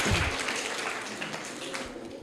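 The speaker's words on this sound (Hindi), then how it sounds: "सही आंसर है, जोरदार तालियां" Classroom applause after a correct quiz answer: a crowd of hands claps loudly at the start, then the clapping thins and softens slightly over the next two seconds.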